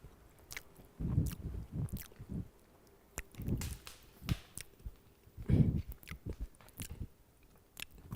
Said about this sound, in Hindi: बिस्किट खा लेते हैं।